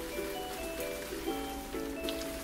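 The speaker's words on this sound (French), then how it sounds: "rainy. Rainy. Il pleut." Steady rain patters on a surface, with soft droplet texture under a faint tonal hum, continuous and even across the short stretch with no voices.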